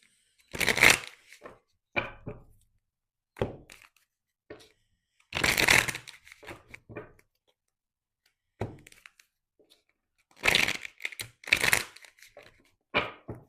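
Tarot cards being shuffled by hand, in several separate bursts of riffling and slapping with short pauses between them, close and crisp with no talking.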